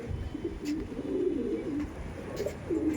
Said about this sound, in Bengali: এটা ফিমেল পায়রা তাই তো? আর এটা মেল পায়রা।